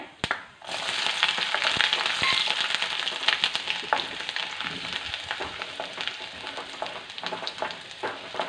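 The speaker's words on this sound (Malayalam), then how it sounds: "ഇഞ്ചിയും വെളുത്തുള്ളി ഇടുവാണേ" Ginger and garlic sizzle loudly in hot oil with popped mustard seeds, cooking for a Kerala-style mango curry; a steady, dense crackling fry with small spits and pops continues throughout, close and with no voices.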